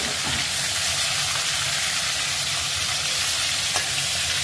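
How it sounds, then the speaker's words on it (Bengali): Fish frying in plenty of hot oil in a pan, a steady dense sizzle with faint crackles and pops running throughout, close and continuous with no talking. "মাছ তোমরা যতটুকুই করো না কেন একটু বেশি তেলে ভাজবে তেলটা"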